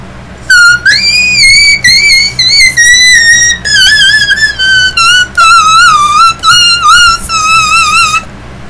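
A singer demonstrates whistle register, producing very high, piercing sustained notes that slide and warble in a rapid series of phrases, loud and close with no talking.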